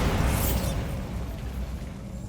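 A Bombarda spell blast in Hogwarts Legacy: a loud, broad explosive burst at the start with a bright crackling top, decaying into a sustained low rumble that lingers to the end.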